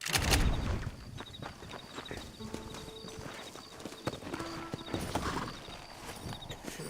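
Horse hooves clip-clop at a steady walking pace in the video game Red Dead Redemption, close and clear, with faint game background tones and no talking.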